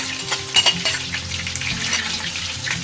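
Onion and peppers frying together in melted oil in a pan for a chickpea menemen, a steady close sizzle with a few sharp clinks of a utensil against the pan.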